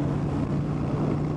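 A Sportster 1200 Custom motorcycle engine runs at about 80 mph on the highway, a steady, loud, droning hum with a strong low tone and wind rush over it.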